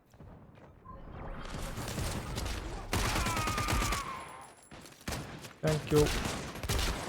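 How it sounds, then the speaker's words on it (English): Bursts of gunfire in the online shooter game Caliber rattle in a loud, dense fusillade, mixed with booms and game sounds, while a player speaks briefly. "They're shooting at the transmitter!"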